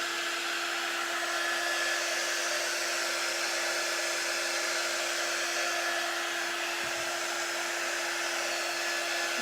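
A hair dryer blows in a steady, unbroken whir, drying wet painted wood, loud and close for the whole stretch, with no voices.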